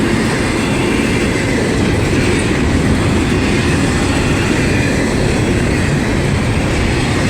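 A freight train with graffiti-covered cars rolls past at Gary, a steady loud rumble with rhythmic clickety-clack of wheels over rail joints, continuous throughout and close by.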